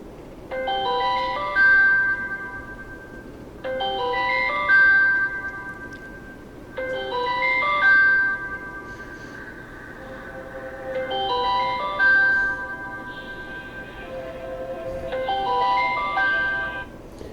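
Astro ringtone from a Samsung Galaxy J3 Orbit phone, a bright chiming melodic phrase repeating five times in regular bursts about every three and a half seconds, clear and up close with no talk.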